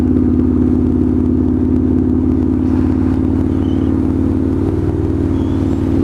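An air-cooled motorcycle with a straight-pipe exhaust cruising, a loud, steady, close-up engine drone with a rapid throbbing pulse that holds at an even pace throughout.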